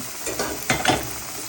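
Boiling water poured into a hot pot of sizzling beef, eggplant and potato, giving a brief hiss and bubbling burst over a steady background sizzle, close and fairly faint.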